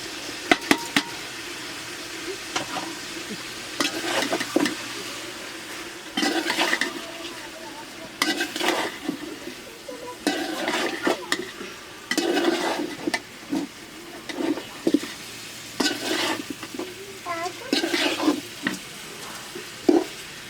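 Chicken roast sizzling as it is sautéed in a pan with tomatoes and spices, soft steady frying noise broken by repeated scraping, stirring strokes, with some faint talk in the background.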